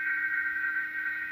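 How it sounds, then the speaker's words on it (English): A steady, continuous buzzing whine comes from a robot kit's lifter-weapon servo whose horn is hitting something inside the robot. It is close and even in loudness throughout, with no talk. "that means that the servo horn is actually hitting something inside your robot"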